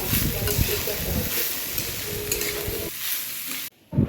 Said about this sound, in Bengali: তো ভালোভাবে চালগুলোকে একটু ভেজে নিচ্ছি।